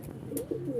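A Rajshahi Giribaz pigeon in a loft gives a soft, short coo that sounds faint against a quiet background.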